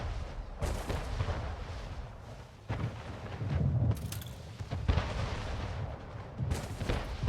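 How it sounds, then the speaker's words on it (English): Repeated cannon fire from ships in the city-building strategy game Anno 1800, a dense run of booming shots and bursts at a steady level with no talking. "That is a lot of cannons."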